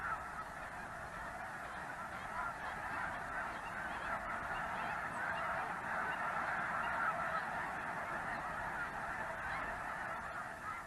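A large flock of migratory geese honks continuously, a dense, overlapping chorus of calls at a moderate distance, steady throughout with no speech.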